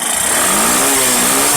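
A Bajaj Platina motorcycle engine runs just after a kick start, a steady close mid-pitched putter with a slight rise in pitch, loud and alone without talk.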